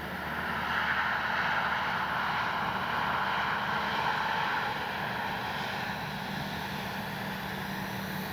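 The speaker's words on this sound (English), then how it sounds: "Good flying plane, good flying plane." A Great Planes Ryan STA model airplane flies overhead in the afternoon, its engine a steady, continuous drone at moderate distance with no talking.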